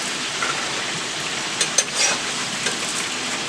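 Chicken deep frying in hot oil gives a steady, close crackling hiss, with a few louder pops and a brief clatter near the end.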